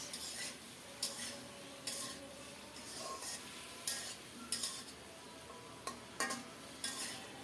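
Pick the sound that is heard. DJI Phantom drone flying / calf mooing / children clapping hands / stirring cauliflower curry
stirring cauliflower curry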